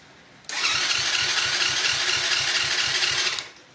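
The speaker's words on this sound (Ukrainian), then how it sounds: "чуєш, коли стартер крути ось так от" A 125cc ATV's starter motor cranks rapidly in a steady rhythmic whir for about three seconds, close and loud, then stops without the engine catching.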